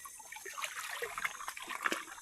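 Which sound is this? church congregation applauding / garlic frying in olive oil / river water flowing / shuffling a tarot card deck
river water flowing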